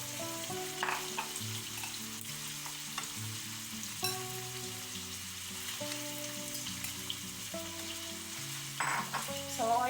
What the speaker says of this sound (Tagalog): ipiprito natin ang ating chicken hanggang sa maging golden brown